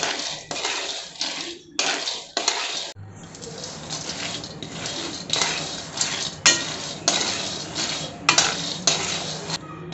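Peanuts dry-roast in a pan over a low flame and are stirred with a metal utensil, giving a run of close, repeated scraping and rattling strokes with brief pauses between them.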